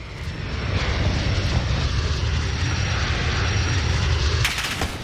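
A Harrier jet in a Call of Duty match roars loudly overhead, a dense continuous engine rush with a sharp burst of gunfire near the end and no speech.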